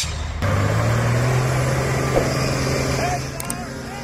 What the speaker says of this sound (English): Military truck.